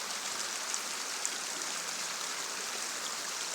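River water runs in a steady, even broadband rush during a crossing, close and moderately loud with no talk over it.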